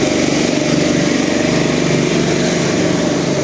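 A street generator in central Lviv runs on a hot summer day, giving a loud, close, continuous buzzing engine drone with a fast, even pulse throughout.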